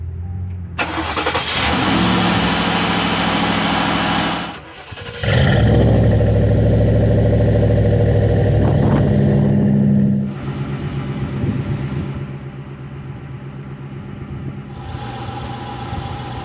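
A Mercury Grand Marquis V8 cranks and fires, then idles in a steady, loud, close rumble; the engine revs up briefly partway through before settling back to a smooth idle, with no talking.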